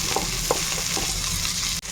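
Tomatoes, onions and green chillies sizzle and fry steadily in a pan for a mushroom curry, with occasional soft stirring scrapes over a continuous close crackle.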